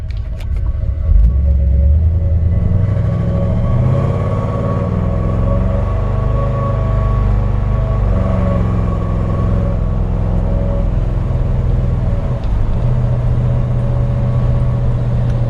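A 1964 Ford Galaxie 500 engine rumbles steadily from inside the cabin as the car drives along, a low continuous drone with slight shifts in pitch.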